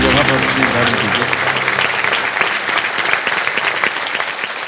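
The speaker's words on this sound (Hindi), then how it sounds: "तालियों के साथ हम चाहेंगे कि उनका स्वागत हो" Studio audience applause on the Kaun Banega Crorepati quiz show set, welcoming new contestants; dense, loud, steady clapping from a large crowd that carries through the whole stretch, with a host's voice audible at the start.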